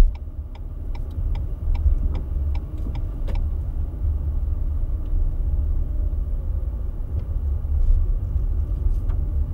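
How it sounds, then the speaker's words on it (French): Car turn indicator ticking steadily inside a vehicle during a driving lesson, regular clicks over a low engine and road rumble, no talk. "Alors mets un clignotant puisque tu circules pas dans ton sens de circulation"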